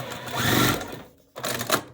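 A sewing machine stitches curved quilt pieces for a Tula Pink butterfly quilt, running in a close, steady whirring burst, briefly stopping, then restarting at a slower pace.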